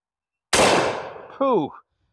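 A 10 gauge side-by-side shotgun fires a short shell in a single sharp, loud blast followed by a quick decaying echo, then a short cry of a voice reacting.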